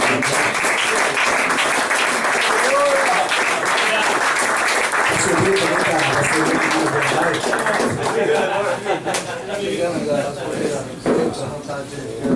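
A church congregation at a men's retreat applauds loudly and continuously, dense clapping filling the room for over twelve seconds, with voices and shouts mixed in and the clapping thinning slightly near the end.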